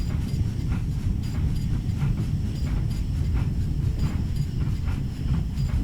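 A steady rumble with rhythmic clatter comes from a simulated LMS Black 5 steam locomotive train slowing under its brakes on the Dumfries to Carlisle line, heard throughout at a constant level with no talk.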